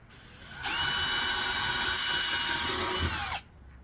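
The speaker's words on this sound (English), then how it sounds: "Now that I have the holes drilled, pull my bit out" A power drill bores holes for mounting a Kolpin Outfitter cargo box, using a slightly larger bit. It gives a single close, steady whine of about three seconds that spins up and winds down.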